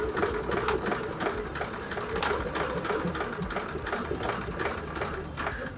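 A sewing machine runs steadily, stitching WonderFil thread around a clam shell embellishment on a Luella clutch, with a continuous close, even mechanical chatter and no pauses.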